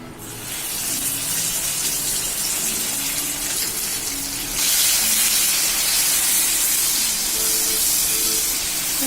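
Masala paste of onion, cashew, coconut and chilli sizzling and spattering in hot oil, a loud continuous frying hiss that swells brighter midway through.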